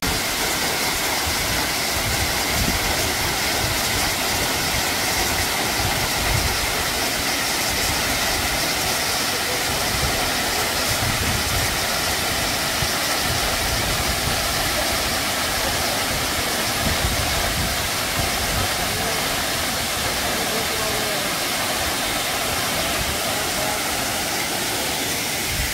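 Suok waterfall drops about 20 m onto rock, producing a loud, continuous broadband roar that stays constant throughout, heard close in front of the falls in a rock-walled setting.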